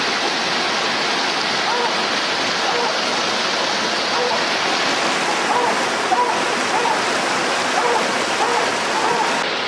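A river flows in a steady, loud rushing roar with constant broadband noise, while a faint voice is heard under it.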